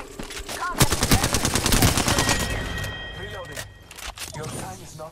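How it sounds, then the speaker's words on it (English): Gunfire crackles in the battle royale game Apex Legends: rapid automatic bursts in a dense rhythmic stream, loud and close, tapering into scattered shots while voices talk over the action. "I'm taking fire."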